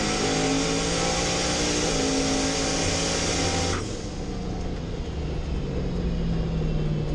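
A GapTrain S10 drag race car on its first test pass on a rough no-prep surface gives a loud, sustained engine roar that cuts back partway through and trails off into a lower rumble.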